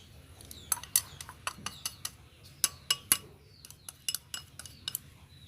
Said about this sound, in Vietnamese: Bây giờ mình sẽ đi quậy bột để mình chiên nó nha.